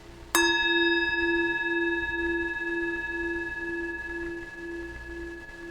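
A single bell rung during a spiritual service gives one sharp strike, then a long, pure ringing tone that slowly fades over several seconds in a quiet room.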